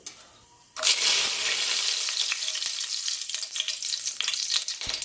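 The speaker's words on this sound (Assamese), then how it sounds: "এতিয়া মই ডালচিনি ইলাচি আৰু তেজপাত গিখিলাও দি দিম" Cinnamon, cardamom and bay leaves hitting hot oil with caramelizing sugar for a chicken curry, a sudden loud sizzle bursting in after a quiet moment, then a sustained close crackle with small stirring taps.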